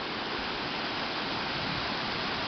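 Butterfly waterfall on the Jaborandi river in Cambé, Paraná, pours in a steady, close, broadband rush of falling water with no pauses and no voices.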